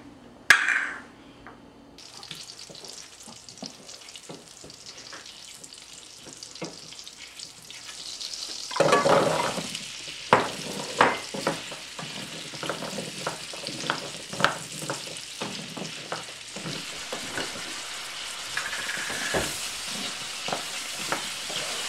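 White wine comes to a boil with carrots in a pan on the stove, giving a soft, steady sizzle and bubbling with scattered light clinks and stirring sounds.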